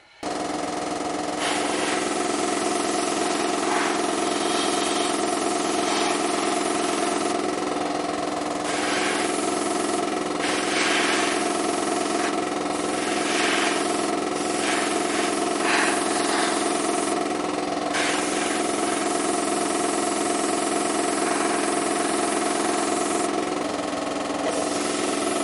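A compressor drives an airbrush as camouflage goes onto a Redcoat musket, a steady loud mechanical drone with a throbbing, engine-like hum that runs unbroken and close throughout, slight variations in texture but no pauses.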